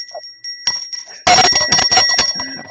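A notification bell sound effect for subscribing: a bright bell ding followed by a busier burst of ringing, clattery chimes, loud and heard alone with no talk.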